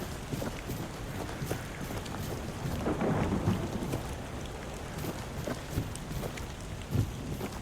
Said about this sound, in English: Oh, look, it's raining now.